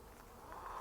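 A backyard honey bee swarm settling on a goumi berry bush gives a soft, continuous buzzing drone, faint and steady over a brief moment.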